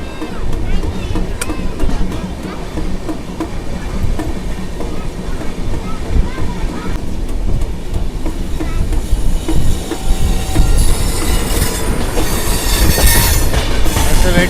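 The Bokaro Express runs on the rails after leaving Duvvada, with a steady loud rumble and clatter of wheels and brief squeals, growing busier toward the end.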